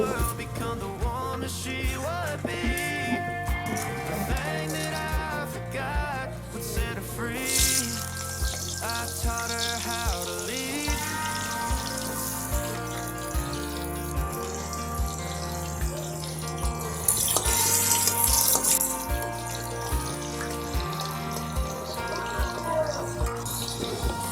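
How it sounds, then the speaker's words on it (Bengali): Potatoes frying in hot oil in a home kitchen, a continuous loud sizzle and crackle that carries on throughout, with music playing over it. "আলু ভাজা হচ্ছে"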